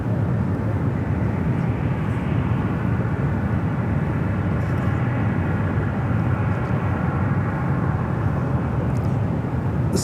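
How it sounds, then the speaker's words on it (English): Jet airliners, Alaska SkyWest and United, land at San Francisco airport, a broad steady engine roar heard from a distance, continuous and even throughout with no talk. "Double landing coming up as well."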